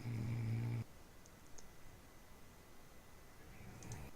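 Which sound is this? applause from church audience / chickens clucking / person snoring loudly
person snoring loudly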